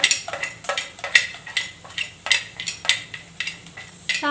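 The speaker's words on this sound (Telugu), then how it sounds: "తర్వాత మినపప్పు వేస్తున్నాను. తర్వాత పచ్చెనగపప్పు కూడా వేస్తున్నాను" A tempering of mustard seeds, urad dal, chana dal, peanuts and cumin fries in hot oil, crackling and popping in sharp, irregular bursts about twice a second, close and clear with no talk.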